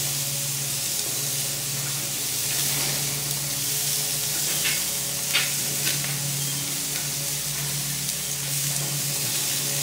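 LA galbi, Korean BBQ beef ribs, sizzling on a grill during a flare-up, giving a steady loud hiss and crackle with occasional sharper pops.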